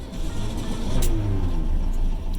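A car engine started with a key turns over and settles into a steady running hum, close and moderately loud, with no speech over it.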